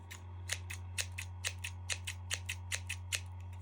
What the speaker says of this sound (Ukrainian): так ріжуть ножиці